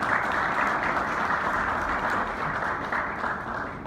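Crowd at the Governor House applauding Olympic gold medalist Arshad Nadeem, a dense, loud, sustained wash of clapping that keeps an even level throughout.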